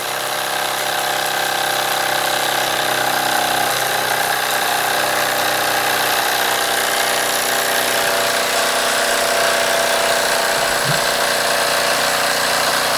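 Early 1900s German Bing small horizontal model steam engine running on a turned-down gas burner, giving a steady, continuous mechanical whir and ticking close by for the whole stretch, with no talking.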